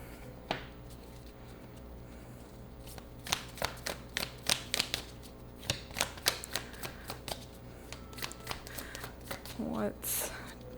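An oracle card deck (Moonology) is shuffled by hand, a run of quick papery riffling bursts and taps in close succession, fairly close and clear with no talking over it.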